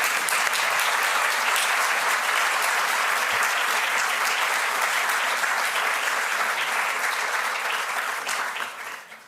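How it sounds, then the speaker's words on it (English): A large audience applauds at a celebration of the Dalai Lama's legacy in Frankfurt, a dense, sustained clapping that holds steady before tapering off at the end. "Can we have applause for..."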